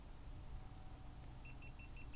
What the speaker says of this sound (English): You let go and it starts beeping,